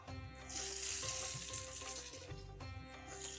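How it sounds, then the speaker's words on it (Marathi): Hot ghee tempering with cumin, mustard seeds and red chilli hits a pot of dal dhokli and bursts into a loud, close sizzle that holds steady for a few seconds, with no talk. "आणि ही मस्त अशी तुपाची फोडणी याच्यावर सोडूया."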